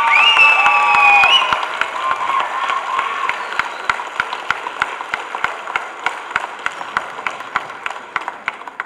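Audience at a Tamil movie trailer launch in a hall applauding, a dense swell of clapping at first that thins into scattered claps, with a brief whistle-like tone over the start.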